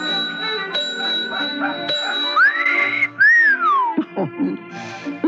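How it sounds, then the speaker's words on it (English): A man whistles a bright, sliding tune in a dramatized old-time radio scene, with rising and falling notes over a few seconds, loud and close, set against other sounds in the scene. "Let him whistle."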